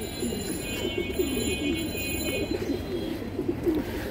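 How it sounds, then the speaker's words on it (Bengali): Rooftop pigeons cooing nearby, overlapping soft throaty coos repeating through the clip over a steady background hum. "এইগুলো সব হচ্ছে আমার এই ছাদে জন্ম নেওয়া আমার কবুতর"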